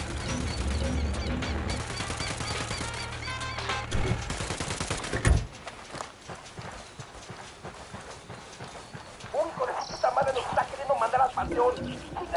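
Bursts of rapid gunfire in the Ghost Recon video game crackle through a busy mix of game sound, dense early on then thinning out, with voices talking over and around the shots.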